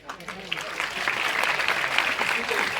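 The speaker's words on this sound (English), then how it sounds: "Let's have a huge round of applause." A college club audience gives a big round of applause at an introduction event, dense clapping building quickly and staying loud, with voices and cheers mixed in.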